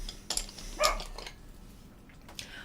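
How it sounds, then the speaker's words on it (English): Dogs bark indoors in the background during a painting livestream, a few short, faint yips and barks spread unevenly over a quiet room. "Oh, sorry, that's my dogs, by the way, if you can hear that."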